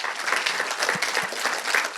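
An audience claps for a panelist at a panel discussion, a dense, steady burst of applause from a crowd that stays even in loudness for a couple of seconds.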